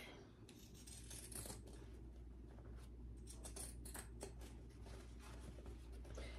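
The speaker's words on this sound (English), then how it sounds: "I'm going to use my pinking shears here along this curve." Pinking shears snip through fabric along a curve in a series of faint, quick crisp cuts, quiet and close against a low steady background hum.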